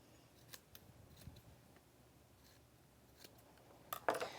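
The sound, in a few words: scissors snipping off extra fabric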